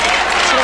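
Studio crowd at a televised cooking battle featuring Bobby Flay, a loud, continuous roar of cheering and clapping filling the room for a brief moment.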